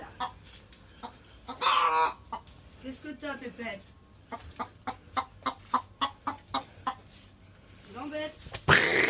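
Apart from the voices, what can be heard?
chickens clucking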